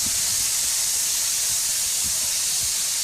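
Thinly sliced meat for Pad Prik King sears in a hot pan as it is tossed, giving a loud, steady sizzling hiss that fills the whole stretch with faint low knocks beneath.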